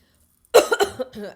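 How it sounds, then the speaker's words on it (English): After a moment of silence, a person coughs several times in quick succession after drinking water, a short, close coughing burst. "I drank the water and it's like gave me a coughing fit"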